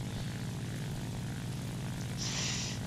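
A Bf 109 propeller fighter's engine drones steadily in the video game War Thunder, a continuous loud low rumble with a brief higher whine near the end.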